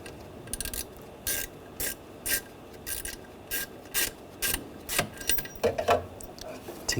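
Ratchet wrench clicking in short, evenly spaced bursts as the last throttle body bolt is backed out on a 2.0L four-cylinder Volkswagen Tiguan, close and crisp with a faint metallic clunk near the end.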